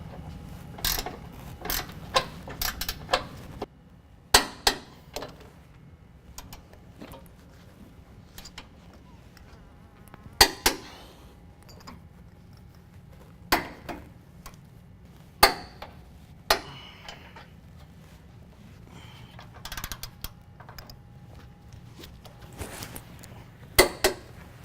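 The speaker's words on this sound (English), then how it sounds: "We're going to tighten all those bolts down to 95 foot-pounds." Ratchet wrench tightening the differential bolts to 95 foot-pounds on a 2015-17 Ford F-150 4WD during a lift kit install: scattered sharp metallic clicks and clanks with short pauses, close and fairly loud, with no talk.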